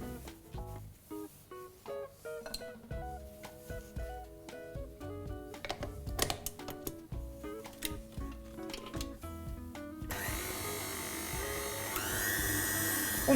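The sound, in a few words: mixer mixing buttercream frosting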